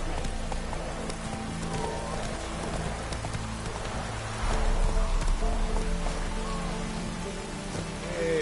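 Hooves of Roach, a horse in the video game The Witcher 3, clip-clop steadily over a rain-soaked soundscape, with rainfall hissing throughout and a louder swell of ambience midway.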